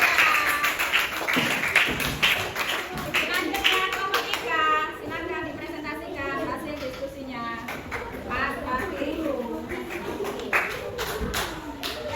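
Children in a primary school classroom clap together for a group that has just presented, a dense burst of hand claps fading under a teacher's voice as she keeps talking.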